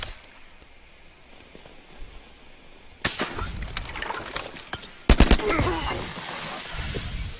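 Smoke bomb in the video game The Culling, a loud broadband hiss that bursts in suddenly and keeps going, with a second, sharper burst partway through, over quiet background noise.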